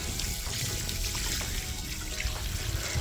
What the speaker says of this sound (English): And now let's water this down.